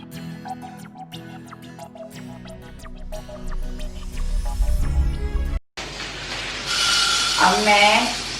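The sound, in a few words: water poured to soak urad dal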